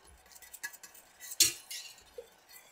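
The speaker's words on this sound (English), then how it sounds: "So we're going to whisk, whisk, whisk." A whisk stirring gravy in a pot makes light metallic clinks and scraping taps against the pot, irregular and close, with one sharper knock partway through and no talk.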